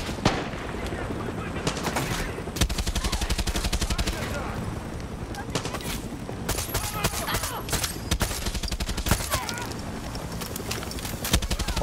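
Dense, sustained automatic gunfire with bursts and single shots during a ship boarding in the video game Far Cry 6, loud and continuous with occasional booms throughout.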